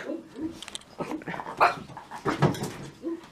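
A dog outdoors barks at crows and whimpers in short, uneven bursts, fairly close, with some rustling in between.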